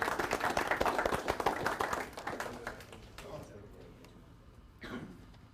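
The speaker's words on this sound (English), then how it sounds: "thank you for the round of applause" Audience clapping at a tech industry talk on data and AI trends, a burst of many hands that thins and fades out, with a few scattered claps lingering near the end.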